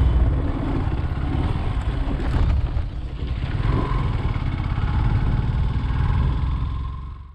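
A motorcycle engine idles steadily and loudly up close at a small petrol pump, a continuous low rumble with no talking over it.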